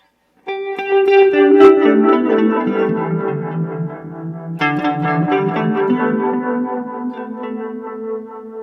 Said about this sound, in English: pentatonic major with, at the very least, tons of reverb